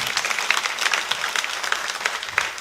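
Applause for the youth fills a Sunday church service, a dense, steady patter of many hands clapping together for a few seconds, fairly close and with no talk over it.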